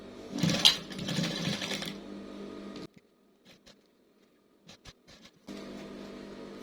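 Sewing machine stitching fabric in a fast, loud whirring burst lasting about two seconds, followed by quiet handling and short clicks, then a steady lower hum as stitching resumes.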